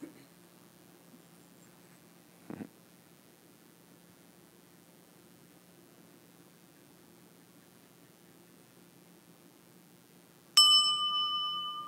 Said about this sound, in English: I'll do one bell to start and one to finish.